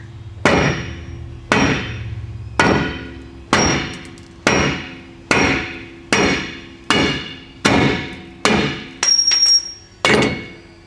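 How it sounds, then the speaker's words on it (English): A hammer strikes a Dodge 3500 truck differential again and again to drive out the yoke and pinion, with eleven loud, ringing metallic blows about one second apart, each decaying quickly, close up with no talk. "I should be able to get the yoke and the pinion out in one just by hitting it here"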